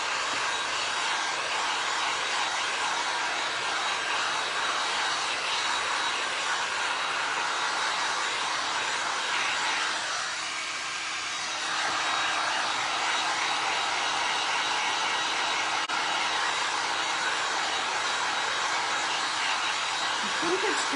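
A hair dryer blows steadily on a glass and resin pumpkin being made, a loud continuous broadband whoosh that holds for the whole stretch with only a brief dip in the middle.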